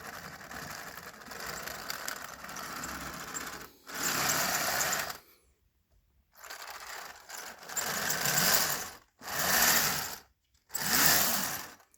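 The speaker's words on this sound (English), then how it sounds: "I love how it like squeals. I love the sound of the tracks." A Cobi Jagdpanzer E100 toy tank runs its tracks over carpet with a loud, close, buzzing whir and high squeal, in several bursts separated by short silent pauses, with no speech.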